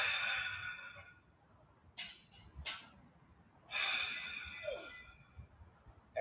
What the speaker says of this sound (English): I want you to take 3 big deep breaths before we start round number 2